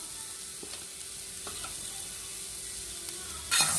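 Freshly grated coconut sizzles in ghee in a pan, a steady quiet hiss with a few faint stirring clicks and a brief louder crackle at the end.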